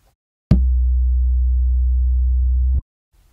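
A deep, pure bass tone from the HALion 7 Spectral Oscillator, its sample set to a more tonal character, sounds once: a sharp attack, then a steady hum for about two seconds before stopping abruptly, alone.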